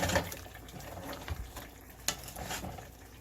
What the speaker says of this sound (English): Okay, so I'm gonna stir everybody in.